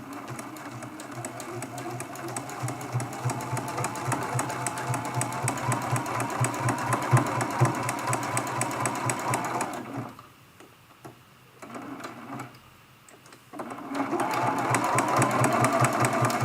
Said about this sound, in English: I'm just going to stitch all the way around the outside of this ornament